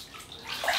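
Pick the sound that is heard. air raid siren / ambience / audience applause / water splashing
water splashing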